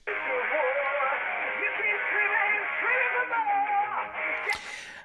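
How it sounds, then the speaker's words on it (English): A rock song intro filtered through a narrow, tinny radio or phone-speaker effect, a thin midrange band of music playing steadily before a sharp bright hit near the end. "In the intro of the song, there's a kind of radio effect"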